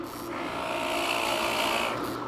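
A drill press bores into material in a steady, continuous whirring grind, fairly close and even in level throughout, with no talk over it.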